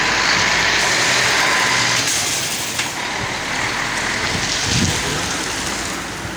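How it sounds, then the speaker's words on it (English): Trucks drive through the industrial area of Lusaka, Zambia, producing a loud, steady broadband road rumble and hiss close by, with engine noise swelling and fading as vehicles pass, no voices present. "Trucks full of beer."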